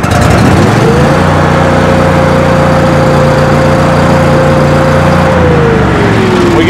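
An engine-driven welder, freshly tuned up after running poorly, runs loud and steady close by, its engine holding an even drone with a rising whine partway through and settling again near the end.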